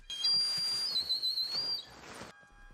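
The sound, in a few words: whistle blown as a danger signal in a film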